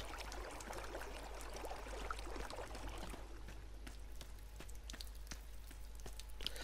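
Water drops and drips fall through a mystical temple environment built in Dreams on PS4, a steady soft trickle with scattered clicking drips over a low constant hum, faint and continuous throughout.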